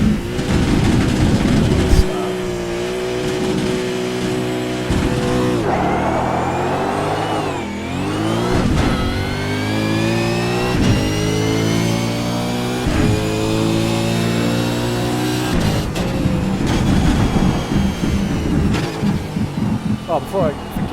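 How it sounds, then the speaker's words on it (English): A V8 Supercar in the iRacing sim, its engine revving hard and repeatedly bouncing off the rev limiter in rattling bursts and rising pulls, while someone talks over it throughout. "And the rev limiter sound, so this one, and this one, I liken it to a bolts in a bucket sort of thing."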